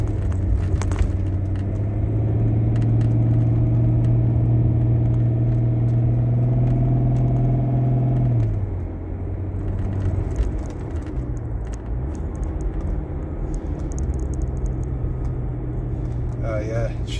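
A Range Rover on the move with a steady engine drone that shifts pitch around eight seconds as it changes gear, then carries on at a lower rumble, with someone speaking inside the cabin.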